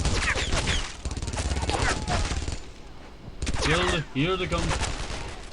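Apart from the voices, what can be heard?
machine gun fire in video game Brothers in Arms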